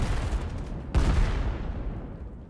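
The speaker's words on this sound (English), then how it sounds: "A lot of nade wreckage coming through." Grenade explosions in a competitive VAIL VR esports match: a steady rumble of gunfire, then one sharp, loud blast about a second in whose roar slowly fades.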